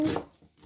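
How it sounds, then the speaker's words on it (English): A knife cuts up a red onion in a home kitchen, a quick burst of close chopping and tearing sounds fading to near silence within a second. "Cut up this red onion."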